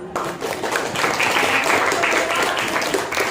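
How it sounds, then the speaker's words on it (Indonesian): Applause from students in a classroom during a mathematics lesson, a steady burst of many hands clapping together for a few seconds, close and fairly loud. "Kan tepuk tangan dulu."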